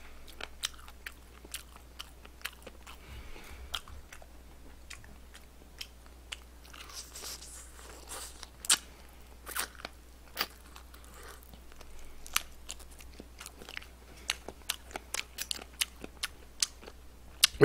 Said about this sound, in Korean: 후라이드 바삭하고 좋네요.